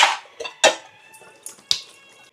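Dishes, pots and utensils are washed by hand, giving a handful of sharp, close metallic clinks and clatters that ring briefly, spaced out with quiet gaps between them.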